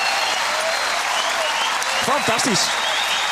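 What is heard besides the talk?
audience applause at a PC 2016 kaatsen match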